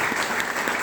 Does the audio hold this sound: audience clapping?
yes